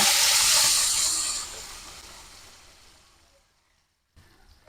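Loud sizzling hiss of blended spice paste for sambal balado hitting hot oil, strongest at first and then steadily dying down over a few seconds, ending with a brief sharp noise.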